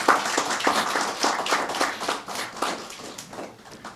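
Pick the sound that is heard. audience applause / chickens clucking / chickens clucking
audience applause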